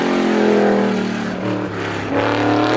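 An ISMA supermodified race car runs a time trial lap at Star Speedway, its loud engine roaring close by with a shifting pitch as it passes through a turn and powers back up.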